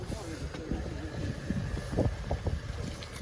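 Wind gusts buffet the microphone with a low rumble while people talk nearby at an outdoor flea market in Lviv.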